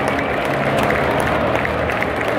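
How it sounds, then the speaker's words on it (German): Football stadium crowd applauding MSV Duisburg players as they leave after a 0:0 draw with Preußen Münster: a dense, steady wash of clapping and crowd noise that fills the whole clip. "die MSV-Spieler werden mit Applaus verabschiedet"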